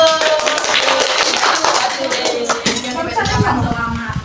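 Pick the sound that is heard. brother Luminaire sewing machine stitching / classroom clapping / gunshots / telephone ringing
classroom clapping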